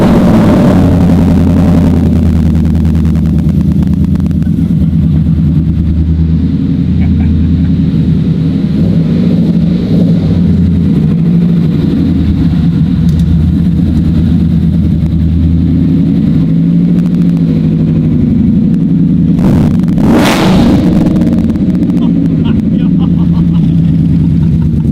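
A rebuilt truck's engine runs loud and close through a newly fitted exhaust, holding a steady rumble with a sharper rev burst near the end.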